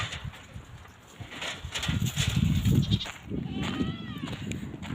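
Several goats bleat in a desert while visitors walk among them, the calls rising over a rough outdoor background and wind noise, with a voice speaking briefly.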